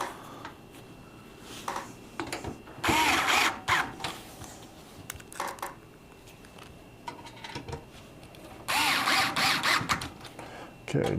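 Screws being driven tight on a PC power supply inside a computer case, sounding as several short whirring bursts of a driver at close range, separated by quieter handling noise.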